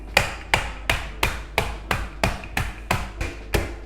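Vanilla cookies in a bag being beaten into crumbs: about ten sharp, evenly spaced thumps with a crunchy crackle, close and loud, no talking.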